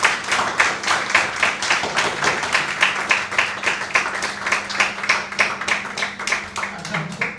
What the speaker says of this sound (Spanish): lo recibimos con un gran aplauso a nuestro equipo